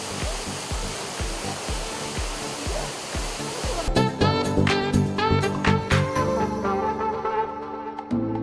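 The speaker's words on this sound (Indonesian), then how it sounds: "Air deras air terjun sudah terasa saat kita tiba di lokasi." Steady roaring rush of falling water from Curug Si Jenggot waterfall on the slopes of Mount Sumbing for a few seconds, then music with a beat takes over and masks it.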